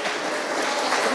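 A crowd applauds during prize-giving at a symposium closing ceremony. The clapping is a brief, thick burst with a steady, constant level.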